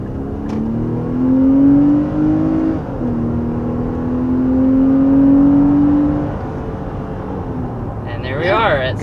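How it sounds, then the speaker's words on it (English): A 2022 Nissan Pathfinder with a 3.5-liter V6 pulls hard under acceleration, the engine note climbing through gears with a brief dip at a shift, loud and steady, while a person speaks over it near the end. "So acceleration for this new Pathfinder feels pretty strong."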